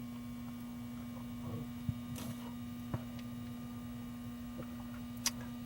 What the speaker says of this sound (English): this number 3 pump right here is my bedroom pump. And it sounds like it comes on.